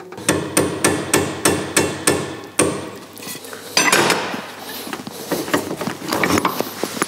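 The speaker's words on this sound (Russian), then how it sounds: "запрессовываем направляющую в новую вилку" Sharp metallic hammer blows press a clutch release guide into a new fork on a Daewoo Matiz 0.8, about eight evenly spaced close strikes followed by lighter clinking and scraping of metal parts.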